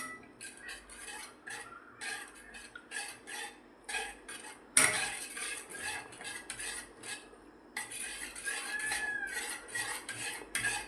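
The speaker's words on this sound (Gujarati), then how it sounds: "હલાવી લઈશું અને થોડીક વાર માટે એને ઢાંકી દઈશું" A spoon scrapes and clinks against a metal pot while paneer tikka masala with onion, ginger, chili and garlic is stirred, followed by a sharp lid clatter as the pot is covered, then more soft scraping, close and moderately quiet.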